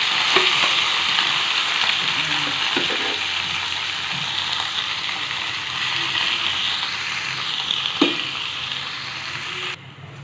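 Squid hits a pan of sautéed garlic and onion, setting off a loud, continuous close sizzle with a few utensil clinks, cutting off abruptly near the end.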